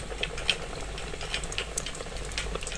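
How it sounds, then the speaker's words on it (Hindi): Chicken pieces frying in hot oil over full flame, a dense continuous sizzle with crackling pops and spits scattered throughout, close and fairly loud. "पहले हम इसको फुल आंच में फ्राई करेंगे, उसके बाद इसके आंच हल्की कर देंगे।"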